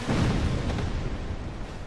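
A loud, sustained roar of an explosion in the video game Dark Souls II fills the moment, a dense rumbling blast that stays heavy throughout with no talk over it.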